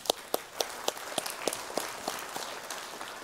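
A conference audience at a tropical forest forum applauds the Republic of Congo delegate, with sparse, distinct claps at a fairly steady pace over a soft noisy background, moderately distant and without talk.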